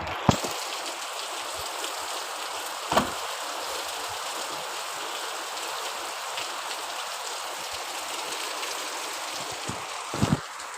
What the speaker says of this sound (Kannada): ಒಳ್ಳೆ ಚೆನ್ನಾಗಿ ಮಳೆ ಬರ್ತೈತೆ